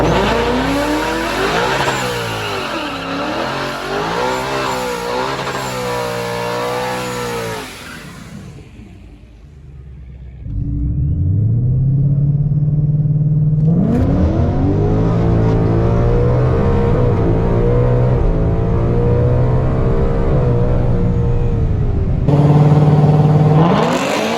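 A supercharged Mustang GT and a 10-speed ZL1 with a Magnuson supercharger, cam and E30 fuel rev hard in a drag race, loud rising engine roars through gear shifts, a brief quieter lull, then another long, close, full-throttle pull.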